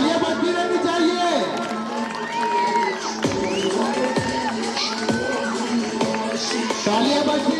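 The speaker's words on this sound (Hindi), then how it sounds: "तालियां बजती रहनी चाहिए।" A crowd of children and adults cheers and shouts excitedly, with scattered clapping throughout and loud voices talking and whooping over the steady din.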